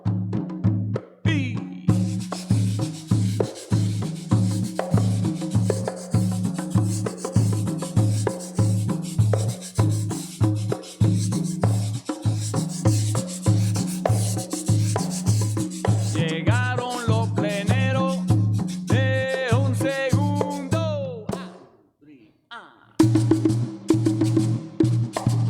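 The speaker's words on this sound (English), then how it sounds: "this particular guiro is called a guicharo" A Puerto Rican guiro, a guicharo made from marimba fruit, is scraped in a fast, steady rasping rhythm of repeated strokes, loud and close. Singing and other instruments join toward the end before a brief pause.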